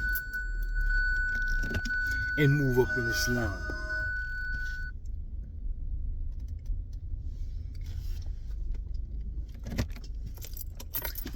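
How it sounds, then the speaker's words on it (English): A car is being started while keys jangle near the ignition, a bright metallic rattle early on over a low engine-like rumble, with a voice talking over part of it. "Now I gotta start my motherfucking car"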